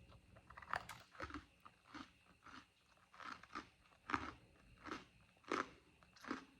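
Repeated loud crunches of dry, brittle food being bitten and chewed, about eight or nine bursts in a steady rhythm, close up with no talking.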